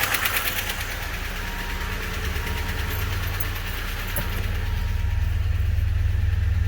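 A 1992 Ford Mustang LX convertible engine idles loudly and steadily, with a fast, regular ticking running through the rumble and no one speaking.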